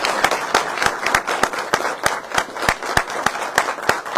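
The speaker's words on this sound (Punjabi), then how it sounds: "ਇੱਕ ਵਾਰ ਜ਼ੋਰਦਾਰ ਤਾੜੀਆਂ ਮਾਰੋ ਯਾਰ" A crowd claps loudly and steadily at a Punjabi political celebration, sharp evenly spaced hand claps repeating rapidly for the whole stretch with little else underneath.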